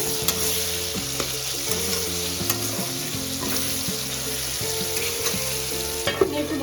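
Chopped green chillies are stirred into frying potato aloo dum with peas and tomato. A strong continuous sizzle carries under repeated close scraping and stirring strokes of a spatula, with no voices.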